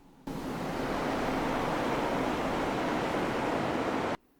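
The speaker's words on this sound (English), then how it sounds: "In the distance, Ulterion heard water crashing on the beach." Surf washing onto a beach in an audio novel soundscape: a steady, broad rushing wash that starts abruptly, holds for about four seconds and cuts off, heard alone without speech.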